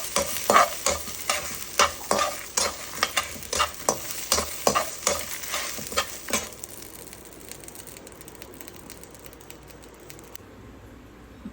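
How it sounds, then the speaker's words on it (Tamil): Curry leaves and spices frying in a kadai for Chettinadu chicken curry, with a dozen sharp rhythmic stirring scrapes over a crackling sizzle, then the stirring stops and a softer sizzle continues. "ஒரு கொத்து கருவேப்பிலை போட்டு நல்லா வறுத்துக்கோங்க."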